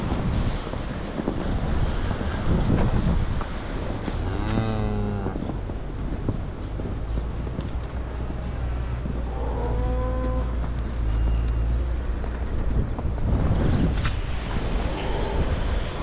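Heifers mooing in a snowy feedlot during a surprise snowstorm, a few moderately loud bellowing calls rising over steady wind noise and a constant low rumble.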